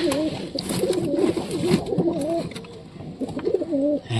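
Giribaj pigeons cooing close by, repeated soft rolling coos that run through the whole clip, with faint background sounds and no clear talk.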